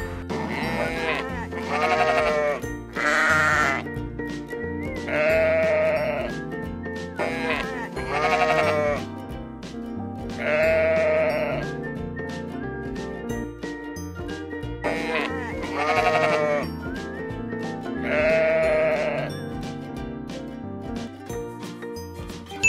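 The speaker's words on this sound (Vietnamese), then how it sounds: "Con cừu." Sheep bleat repeatedly in a farm-animal setting, several drawn-out, wavering calls spaced a few seconds apart over a steady musical backing.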